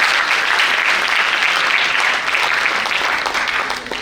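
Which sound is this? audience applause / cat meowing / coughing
audience applause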